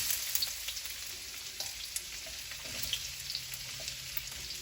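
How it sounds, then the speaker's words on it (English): Pork tenderloin and onions frying in a hot pan for pork fried rice, giving a steady, close sizzle with light crackling pops throughout. "Right behind that, I'm going to throw in the pork tenderloin."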